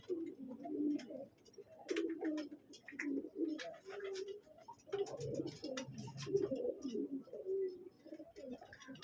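Pigeons coo at a loft in repeated soft, low throaty calls that come in uneven bursts, close by against quiet surroundings, with no talking.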